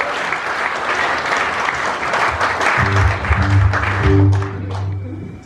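A live audience applauds a keyboard player at a tribute show in Ravenshead, a dense steady roar of many hands that stays loud throughout, with a low musical hum entering partway through.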